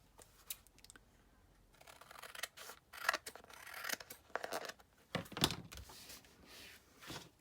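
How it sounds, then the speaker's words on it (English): Scissors snip through paper while trimming the bottom edge of a handmade journal pocket page, a series of close, crisp cutting strokes in uneven bursts with short pauses, no talking. "Looks like I'm gonna have to trim a little"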